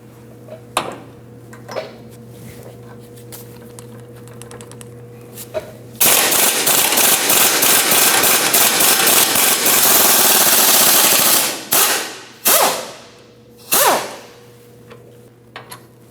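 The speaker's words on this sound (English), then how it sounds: "Now that we've broken the bolt free, we can use an impact gun to take it off." An impact gun spins off the rear shock bolt on a 2009-2017 Audi Q5, first a few quiet taps and clicks, then a loud, steady rattling burst of about six seconds, then several shorter rattling bursts in a garage.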